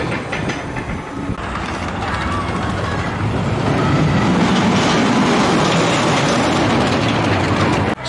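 A mine train roller coaster at Funland, Hayling Island rumbles and clatters along its track, a loud continuous roar with rattling wheels that cuts off at the end.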